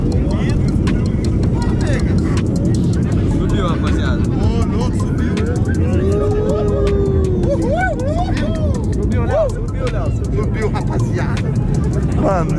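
Inside a passenger airplane climbing after takeoff, a loud continuous engine roar fills the cabin while several people chatter and exclaim excitedly over it throughout.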